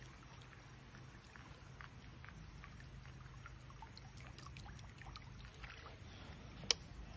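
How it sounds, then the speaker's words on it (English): Sneaky Rat swimbait rat lure being retrieved across the water, giving a faint, steady swishing wash with one sharp little clack near the end, heard from a distance with no talk. "And as we get closer, you'll hear the water swoosh as well as a little bit of a clack."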